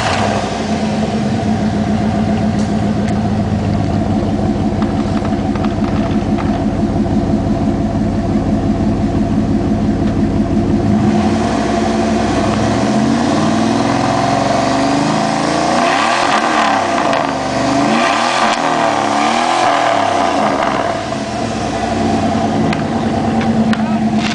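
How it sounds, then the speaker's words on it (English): A Dodge Ram 1500 pickup with a 318 V8, 451 cam and no-muffler straight-pipe dual exhaust rumbles steadily at close range, then is revved repeatedly in choppy bursts through the second half, loud and raw throughout. "Dodge Ram 1500, 318, no muffler, straight pipes, dual exhaust."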